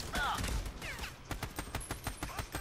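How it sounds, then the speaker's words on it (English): Rapid gunfire from a third-person co-op shooter, Army of Two, crackling in a quick string of close, sharp shots with game voices and effects mixed in. "Stop shooting me!"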